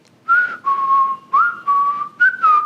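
A person imitates a whistle with their voice, giving four clear sliding whistle notes in a steady repeating pattern, close and fairly loud against a quiet background.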